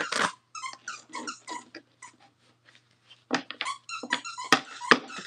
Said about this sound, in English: Sorry for my dog squeaking in the background.